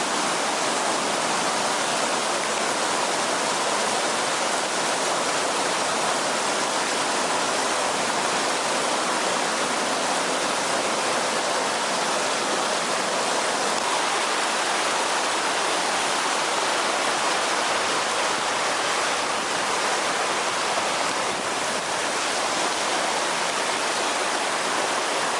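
Heavy rainwater rushes through Santa Cruz, Tenerife, during the December 2013 downpour, a loud, unbroken roaring wash that holds steady throughout with no voices.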